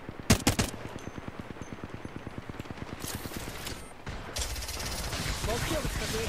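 Automatic weapon fire in a shooter video game rattles in a fast, even stream of shots, interrupted by a few louder blasts and followed by denser, noisier firing.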